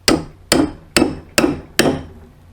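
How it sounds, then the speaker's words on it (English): Five sharp hammer whacks strike the end of a steel awl driven into a scrap 2x4 beneath, evenly spaced about half a second apart, loud and close with short ringing decays and no talk. "I'm then going to take my hammer and give the hammer a few good whacks into the end of the awl"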